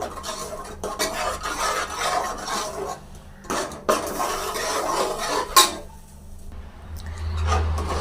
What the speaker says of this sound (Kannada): ಈಗ ಮಿಶ್ರಣ ಮಾಡ್ಕೊಳ್ಳೋಣ